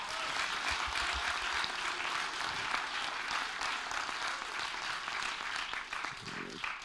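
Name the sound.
audience applause for presenters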